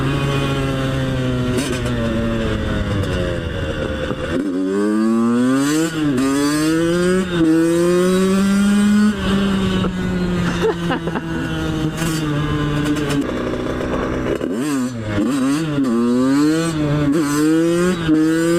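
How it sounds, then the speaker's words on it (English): A dirt bike engine revs hard and continuously during a chase, loud and close, its pitch climbing and falling with repeated throttle blips and gear changes. "Dirt bikes are so much fun."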